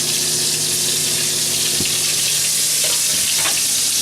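Mushrooms sizzle steadily in a hot frying pan, a dense, bright hiss with a few soft clicks and scrapes as pieces shift, close by and without speech.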